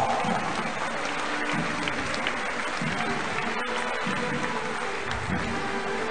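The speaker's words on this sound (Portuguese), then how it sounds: "Vamos recebê-los com uma salva de palmas." Steady applause from a large crowd at a pastors' conference in Campo Grande, welcoming the Military Police band of Mato Grosso do Sul, dense and continuous throughout with faint voices beneath.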